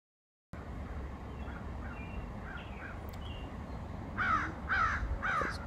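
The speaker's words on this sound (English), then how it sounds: "Crows are so annoying." Crows caw outdoors, a few distant calls early on, then three louder, closer caws in steady succession over a quiet background hiss.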